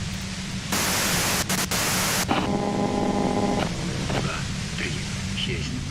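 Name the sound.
radio white noise static in video game Disco Elysium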